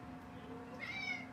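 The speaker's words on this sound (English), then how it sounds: "He did the meow." A male cat gives a single short meow near the end, fairly close but modest in loudness, after a quiet indoor stretch with no speech.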